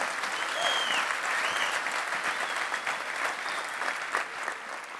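Sustained applause from an audience at a motivational talk, dense and even clapping at moderate distance that carries on without a break.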